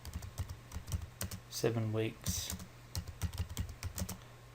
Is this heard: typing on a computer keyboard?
yes